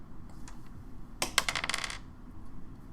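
Dice clatter and rattle across a table for about a second in a tabletop roleplaying game damage roll, a quick burst of sharp clicks over a low room hum.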